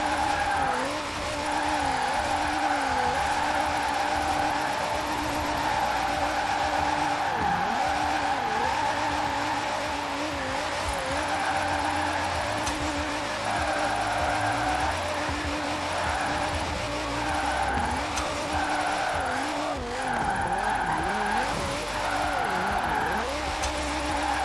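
A drifting car in Forza Horizon 4 holds a long, steady engine drone with repeated tire squeals and skids that wobble in pitch, loud and continuous throughout without speech.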